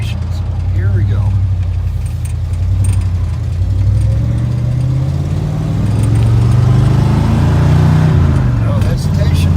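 Car engine with a replaced Holley carburetor revving and pulling away, a close low engine drone that rises and falls in pitch, with people talking over it.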